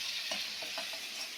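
Prawns fry in hot oil, giving a soft, steady sizzle with a few light stirring scrapes, faint and without voices.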